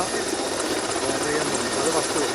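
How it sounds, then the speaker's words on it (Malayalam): A helicopter carrying the President departs from Pramadam, its steady loud rotor and engine roar filling the air, with a voice speaking over it. "അത് വഹിച്ചുകൊണ്ടുള്ള ഹെലികോപ്റ്റർ ഇപ്പോൾ തിരുവനന്തപുരത്തേക്ക് യാത്ര തിരിക്കും"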